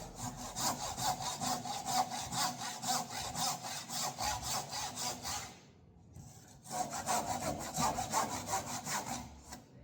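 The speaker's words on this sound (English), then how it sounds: "This is where you want to slow up your saw. When you come into the end, slow it up because you don't want to cut into your good timber." Hand saw cutting through timber for a mortice and tenon joint, close and rhythmic with steady back-and-forth strokes, a brief pause, then sawing resumes at the same even pace.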